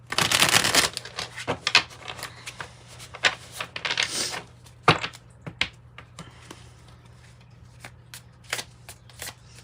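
Tarot cards being shuffled and pulled by hand: a dense riffling burst at the start, then scattered crisp slaps and taps of cards laid down, close and fairly quiet.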